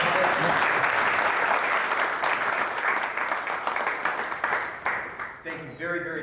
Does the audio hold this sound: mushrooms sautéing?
no